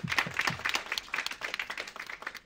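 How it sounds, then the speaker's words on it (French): A small audience applauding at a Napoleon prize ceremony honoring Prince Joachim Murat, scattered claps forming a lively but modest burst of clapping heard fairly close. "Je vous d'applaudir très fort."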